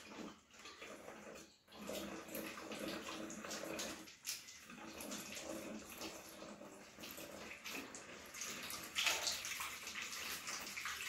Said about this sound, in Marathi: आता मी बाटलीत पाणी भरत आहे.